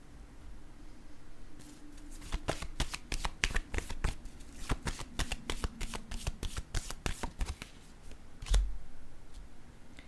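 Tarot cards are riffled and shuffled close by, with a fast flurry of crisp snapping flicks that comes in bursts and ends with a soft thud as the deck is set down.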